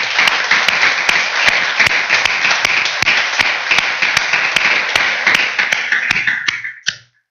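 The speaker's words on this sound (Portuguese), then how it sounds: "Vamos dar uma salva de palmas para o Senhor." A church congregation applauds steadily during a service, with dense clapping and a few sharper taps in rhythm, then the applause fades out quickly at the end.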